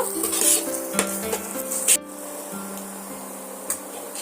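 Spices and chilli powder cook down in hot oil for Punjabi aloo dum: a soft sizzle under intermittent stirring scrapes and a few sharp clinks of a spoon against the pan, close up, with no voices.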